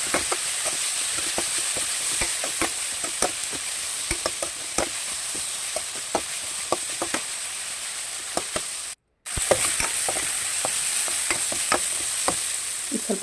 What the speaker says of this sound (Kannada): ಸ್ವಲ್ಪ ಫ್ರೈ ಆಗ್ತಾ ಬಂತು.